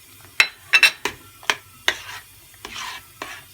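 Mashed potatoes with margarine are stirred in a pot: a series of separate scraping, clacking strokes against the metal, some in quick pairs, fairly close and with no talk.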